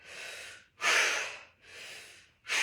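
Heavy breathing during an abdominal workout: four long, close, airy breaths alternate between inhales and exhales in a steady rhythm, alone with no talking.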